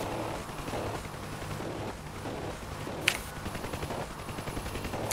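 Rapid machine-gun fire rattles in a flight combat video game with helicopters, F-16s and Harriers, as a steady stream of fast shots with a sharper burst near the middle and no talk over it.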